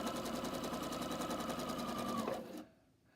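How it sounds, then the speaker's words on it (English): A sewing machine runs steadily as it stitches quilt squares along the edge with a 1/4 inch seam allowance and 2.5 stitch length, a close, even mechanical whir that stops abruptly near the end. "I'm just going to stitch along the edge"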